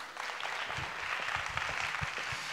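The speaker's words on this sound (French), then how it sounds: "Je vous invite à faire un tonnerre d'applaudissements pour Ludovic." An audience gives a speaker a warm round of applause, continuous dense clapping heard up close with a few louder individual claps standing out.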